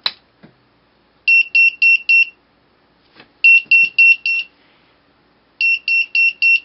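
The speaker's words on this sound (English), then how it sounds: "it will keep beeping until you disengage the power" Three bursts of four sharp, high-pitched electronic beeps each from a 3-volt tri-beep piezo buzzer module, evenly spaced, with soft clicks between the bursts and silence otherwise.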